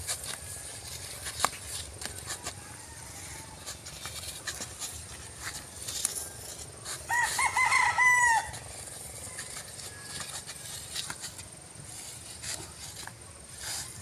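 A single rooster crow rings out mid-clip at moderate distance over quiet outdoor farm ambience, with faint scattered clucking and pattering around it.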